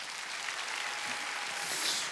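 A church congregation at a Sunday worship service claps together, a soft, dense wash of many hands heard at a distance throughout.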